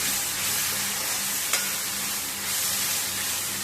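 Potatoes and peas fry in a pan with a continuous, close, even sizzle, broken once by a single short scrape of stirring.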